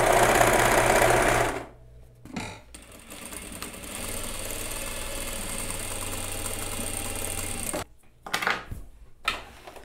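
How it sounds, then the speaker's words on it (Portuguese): A straight-stitch machine and an overlocker sew a blazer seam: a fast loud mechanical whirring burst, then a steadier lighter machine hum, broken by short pauses and clicks, close up with no talk. "E vou fechar reta e overlock também."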